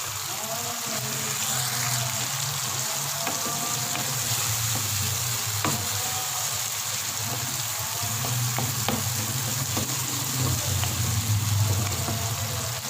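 Ginger fries with chana dal in a pan, giving a steady, close sizzle throughout with occasional faint stirring scrapes.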